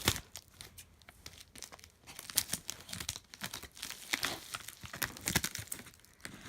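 Packaging from a subscription box is handled up close, with crinkling, rustling and tearing in uneven bursts and no talking.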